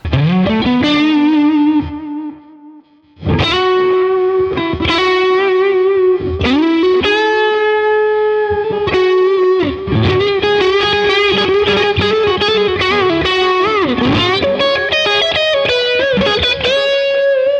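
Gusta Harel S125 electric guitar with reverb and delay effects, playing a long, loud melodic phrase of sustained and bending notes with a short pause near the start, alone without talking.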